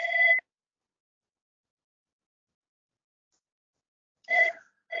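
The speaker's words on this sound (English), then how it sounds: "what a great time for someone to be calling on my other phone line" A telephone on another line rings in short electronic trills, one right at the start and another about four seconds later, clear and fairly close against total silence.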